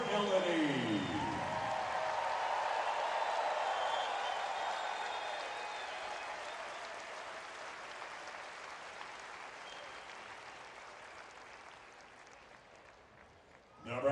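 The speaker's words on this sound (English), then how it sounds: "One big round of applause for Elodie." An arena crowd at a professional volleyball match between the Orlando Valkyries and the Omaha Supernovas, applauding and cheering loudly, then fading steadily over many seconds, with an announcer's voice heard over the start.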